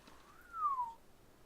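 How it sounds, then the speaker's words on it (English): A single soft whistled note from a person, rising then gliding down over about half a second, faint and close, with no talk around it. "Sorry for the whistling."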